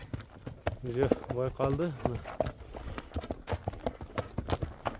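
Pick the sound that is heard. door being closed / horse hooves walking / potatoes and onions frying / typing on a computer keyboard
horse hooves walking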